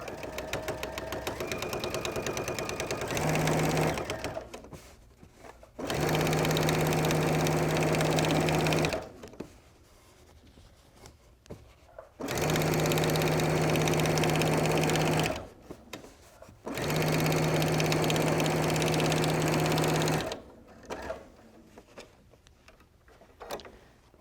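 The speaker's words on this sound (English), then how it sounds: "I actually open up my two pieces with the seam allowance to one side, and then I do an edge stitch" Sewing machine running an edge stitch on handbag fabric, four long steady whirring runs of several seconds each with brief quiet gaps between them, close and loud.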